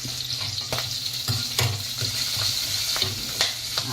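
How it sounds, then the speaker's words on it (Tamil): Green chilies sizzle steadily in hot oil, with a crackling hiss and occasional sharp pops and stirring clicks close up, no voices. "பச்சை மிளகாய் கொஞ்சம் வதங்க உடனே நம்ம வெங்காயம் போட்டுக்கலாம்."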